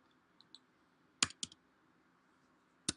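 A computer keyboard gives a few sparse clicks. Faint taps come first, then a short cluster of sharper keystrokes and one more crisp click near the end, all close and quiet with no voices.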